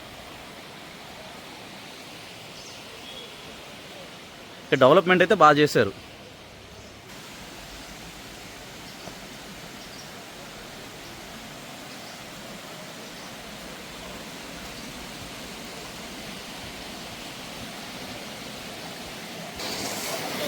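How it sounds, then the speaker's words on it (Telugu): Water from a waterfall at Bhairava Kona flowing downhill, a soft, even wash that runs steadily throughout, briefly covered early on by a short burst of speech. "వాటర్ ఫాల్ నుంచి వచ్చే నీళ్ళు ఇలా వెళ్ళిపోతూ ఉన్నాయి కిందకి"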